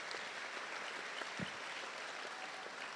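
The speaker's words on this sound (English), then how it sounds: "Let's show them our appreciation by giving them all a round of applause." Steady, distant-sounding applause from an audience at a 4-H swine show during the Nebraska State Fair, a continuous even patter of many hands that holds at a moderate level throughout.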